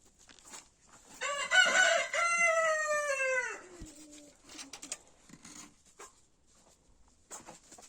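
A rooster crows loudly and close in a chicken coop, one long drawn-out call followed by scattered clucks and softer bird sounds, with no talking.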